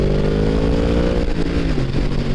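A Yamaha MT-10 motorcycle accelerating hard enough for the front wheel to lift, its engine note loud and close, rising steadily in pitch with a strong droning roar and no speech.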